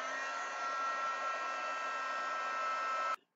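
A heat tool for embossing blows a steady, close whirring hiss like a small hair dryer while melting embossing powder on a mixed media art journal page, then cuts off abruptly at the end.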